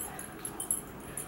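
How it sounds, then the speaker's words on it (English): An excited dog whimpers and huffs in short, faint bursts, with soft high whines recurring irregularly through a quiet room. "If you hear huffing and puffing, it's Gus"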